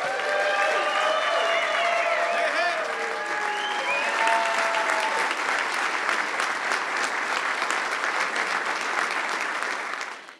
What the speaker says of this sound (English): How about a louder round of applause for Councilwoman Laura Ryder